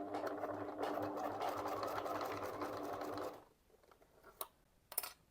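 A sewing machine stitches fabric in a fast, steady mechanical whir for about three seconds, then stops. A few soft clicks and taps follow in the quiet.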